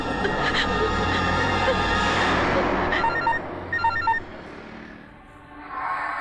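A telephone rings during a tense Bhojpuri action-film scene, sounding as a few short, bright repeated tonal bursts that rise over dense, loud background noise and music before fading.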